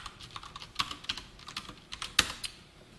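Light, irregular taps on a computer keyboard while Java code is typed, quiet and close, with a few sharper keystrokes standing out and no talking.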